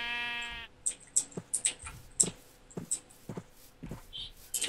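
A sheep bleats once in Minecraft, followed by a rapid run of clicks and short pops like game sounds or button presses.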